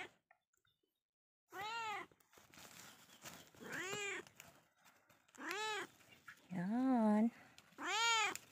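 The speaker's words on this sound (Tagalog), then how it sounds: "Ingay ng pusa ko." A pet cat meows loudly and close by on a farm, giving five distinct drawn-out cries spaced a second or so apart, with a brief word spoken between them.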